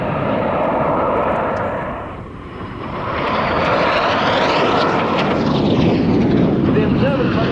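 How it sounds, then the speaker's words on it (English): RAF Red Arrows jet roaring overhead at an airshow display, a loud sustained engine rush that dips briefly then swells back as it passes, with a commentator talking over it. "If you look right, there is one lone jet, that is Red 9."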